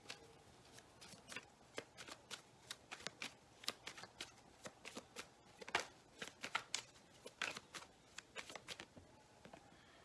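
Tarot cards being shuffled by hand in a quiet room, a steady run of soft, crisp riffles and slaps over ten seconds with no talking.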